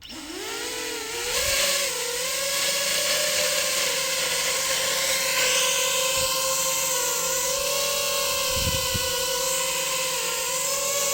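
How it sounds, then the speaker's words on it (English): A gimbal for a 360 camera, hung on a long pole beneath a drone, powers up with a rising motor whine that settles into a steady, loud electronic hum with high tonal overtones, continuous and close, no talking. "Turn on the gimbal."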